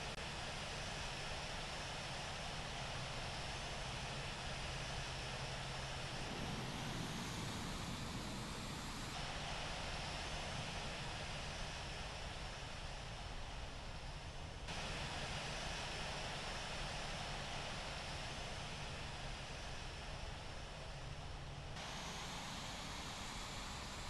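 A steady, faint roar from the engines of an Airbus A340-600 taxiing at London Heathrow. The noise is broadband and continuous, with a few gradual shifts in tone, and no voices are heard.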